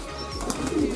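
Pigeons coo softly and continuously inside a pigeon loft, a low throaty murmuring close by that fills the short moment alone, without voices.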